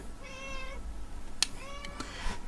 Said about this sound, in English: The cat's hungry, as you can probably hear.